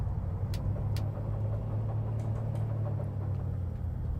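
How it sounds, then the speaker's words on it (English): Twin piston engines of a Carenado Seneca V in Microsoft Flight Simulator 2020 rumble steadily with a low, even drone and a couple of brief clicks near the start, no talking. "let's kick off the left engine and the right engine"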